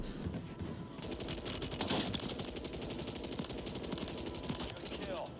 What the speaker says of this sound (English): We are shooting it now.